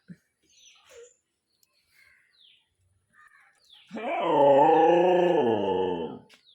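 A pet dog gives a few faint whimpers and snuffles, then breaks into a drawn-out, wavering howl for about two seconds, close and fairly loud, before falling quiet.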